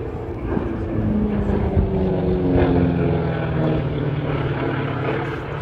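A T-28 trainer with a big radial piston engine drones past at an air display of Vietnam-era aircraft, a steady rumbling engine tone rising and easing slightly over several seconds.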